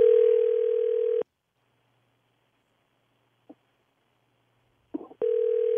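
Telephone line ringing during an on-air radio call to a city office: a loud steady ring tone sounds for about a second, silence follows with a faint click, then a brief rustle and the ring tone returns.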